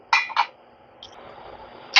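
A spoon clinks against a pan while curd and cashew paste masala is mixed for white gravy dum aloo, two sharp metallic knocks, a softer scrape, then another clink, close and clear.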